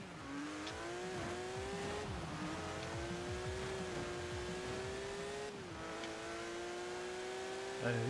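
A 1960s Porsche in a racing video game on a damp road, engine revving up in repeated rising sweeps with gear changes, faint and steady under the race's ambience.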